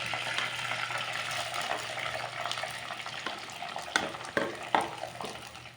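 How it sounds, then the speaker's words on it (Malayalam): Chopped onion frying in hot oil with green chilli and curry leaves for a Kerala-style chicken curry gives a steady, close, crackling hiss, with a few sharper pops and spatters toward the end. "നമുക്ക് കട്ട് ചെയ്ത് വെച്ചിട്ടുള്ള സവാള ഇതിലേക്ക് ചേർത്ത് കൊടുക്കാം."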